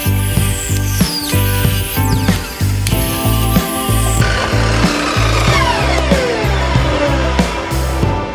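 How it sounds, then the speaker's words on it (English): Rhythmic back-and-forth sawing through wood into half-inch slabs, loud and close, with repeated strokes and a rasping, rubbing texture. "Take your piece of wood and cut it into half-inch slabs."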